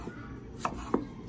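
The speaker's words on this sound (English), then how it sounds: "So I'm gonna slice up some ginger." A knife cuts through fresh ginger on a board, two or three crisp separate chops spaced unevenly, close up with no talk.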